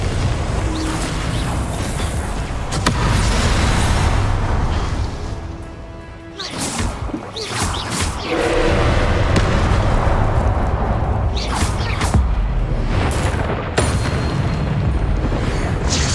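Fire-blasting spell explosions from the Hogwarts Legacy video game, with a heavy, continuous roar of booms, crashes and whooshes, a brief dip near the middle, then renewed blasts at close, loud range.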